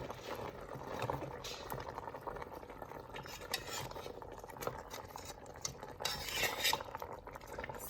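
A spoon slowly stirs meat with prunes and apricots in a cooking pot, with soft repeated scrapes and clinks against the metal over a faint simmer, close and steady.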